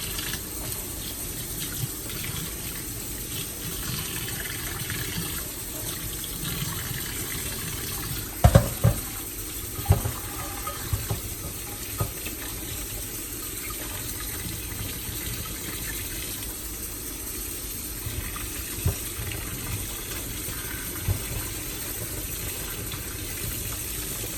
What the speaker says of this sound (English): So you just wanna add a little water and then wash it real good.